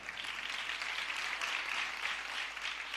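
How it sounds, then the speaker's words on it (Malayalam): An audience claps for a young boy in a black T-shirt brought up during a Malayalam sermon, a dense, even wash of applause sustained for several seconds at moderate loudness. "ഈ കുഞ്ഞിന് നല്ലൊരു ക്ലാപ്പ് കൊടുക്കാമോ?"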